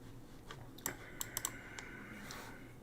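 Quiet typing on a computer keyboard, a scatter of soft key clicks with a few sharper taps in the middle, close and alone with no voices.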